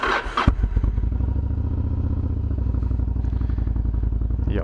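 A motorcycle with brand-new tyres starts up with a clattering crank and catch, then settles into a steady, throbbing idle close by that stays loud and even for several seconds.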